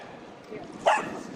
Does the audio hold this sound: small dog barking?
yes